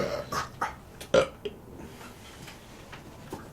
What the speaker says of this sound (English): Oh, a nice resonaty burp.